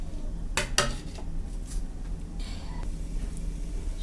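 Onion, spices and cinnamon tipped into a cooking pot for hilsa korma, with clattering utensil and metal pot knocks near the start, then a steady low cooking rumble and light scraping throughout, with no voices.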